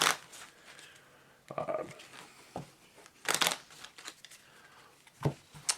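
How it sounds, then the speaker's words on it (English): Cards shuffled by hand during a solo tabletop card game, heard as several irregular crinkly riffling bursts and soft rustles close by, without speech. "And shuffle the cards up."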